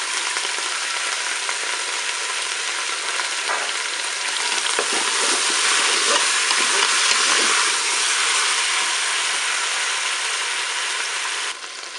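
Onions, shallots and garlic sizzling in a Cookeo multicooker, a loud continuous frying hiss with crackles and occasional stirring scrapes, steady throughout and ending with a slight drop.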